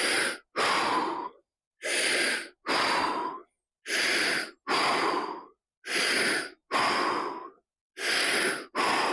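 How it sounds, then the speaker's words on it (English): Deep, forceful breaths in a full yoga squat stretch, alternating inhales and exhales in a steady rhythm, loud and close with short silent pauses between each breath and no talking. "6 deep breaths here"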